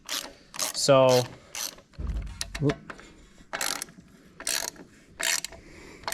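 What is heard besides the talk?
ratchet tightening manifold bolts on 1935 Allis Chalmers tractor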